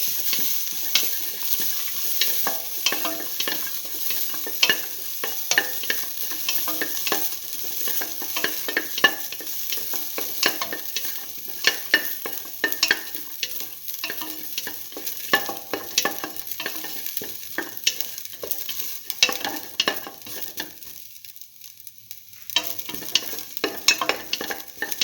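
Ginger and garlic frying with salt in a pan, a crackling sizzle with rapid spattering pops and stirring scrapes, briefly quieter near the end before picking up again.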